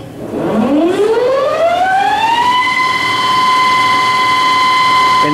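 Haas TL4 lathe spindle from 2008 winds up to 250 RPM, a loud rising whine that climbs over about two seconds and then holds a steady, sustained tone with strong harmonics, running alone without talk.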